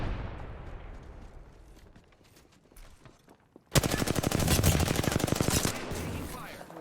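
Automatic gunfire in Apex Legends: sparse shots and a faint rumble, then a sudden loud sustained burst of rapid machine-gun fire dominating the end, close and intense.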